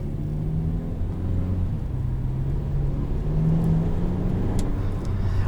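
A 2021 Kia Soul Turbo drives under steady load, its engine note rising as it accelerates, with a continuous low rumble and whir of road and cabin noise throughout.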